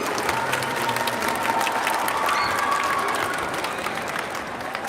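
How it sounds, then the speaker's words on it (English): An audience at a school district arts showcase keeps up a round of applause for the middle school band, dense steady clapping with faint crowd murmur and a few scattered voices, tapering slightly at the end. "Let's keep that round of applause going for the middle school band"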